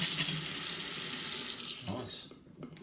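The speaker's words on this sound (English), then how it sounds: "So I'll turn the water back on. Okay, so we turn the water back on again. Let's go for the tap, expecting a few blasts of air." Franke Ascona kitchen tap runs as water is turned back on after a ceramic cartridge repair. A close, hissing gush of water that spits briefly and then tapers off, with a voice heard faintly.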